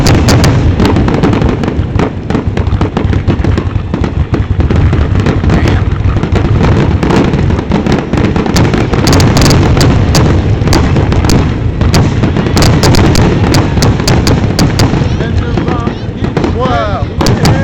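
Fourth of July fireworks over Vineland, New Jersey explode in a dense, continuous barrage of booms and crackling bursts for the whole stretch, loud and close, with spectators talking and exclaiming faintly underneath.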